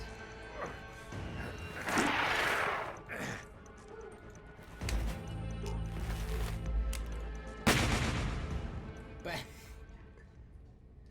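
Several loud separate gunshots ring out in the supernatural detective game Adam Wolfe, spaced irregularly among crashes and other action sounds, with voices speaking in between.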